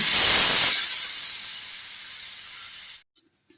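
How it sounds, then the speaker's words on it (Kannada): Hot tempering poured into a Mangalore-style brinjal curd bajji gives a loud sizzling hiss that bursts at first, then settles into a steady, fading fizz and cuts off after about three seconds. "ಇವಾಗ ಇದನ್ನು ಒಗ್ಗರಣೆ ಅದಕ್ಕೆ ಹಾಕಬೇಕು"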